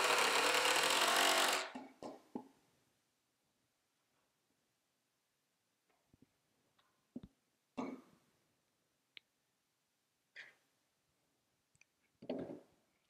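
A power driver sets screws to hold a board in place for a rolling storage build, a loud sustained whir for about two seconds, followed by scattered light knocks and clicks from handling the wood.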